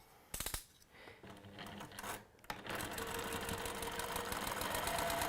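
Sewing machine stitching fabric on a textile project: a few brief starts, then a steady continuous mechanical whir that runs loud and close through the rest, with no talking.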